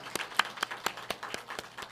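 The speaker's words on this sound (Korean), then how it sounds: "서로 한번 박수 한번 하시면 좋겠습니다." Church congregation giving brief welcoming applause during a Sunday service, heard as a handful of separate, fairly faint claps spaced across under two seconds in a quiet sanctuary.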